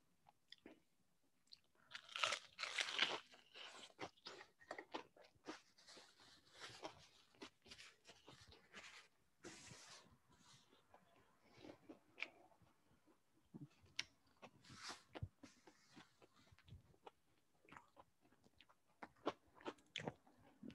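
Crunchy bites and chewing of crispy beer-battered fish and chips, close to the mic, with irregular crackling crunches and pauses over about twenty seconds.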